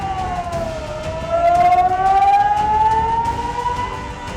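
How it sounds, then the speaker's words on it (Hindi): Danger alert siren sounding at a football ground during an attack, a steady wailing tone that slowly rises in pitch and grows louder, heard over a rough noisy background. "फुटबॉल मैदान पर खतरे का अलर्ट सायरन बजाया गया था"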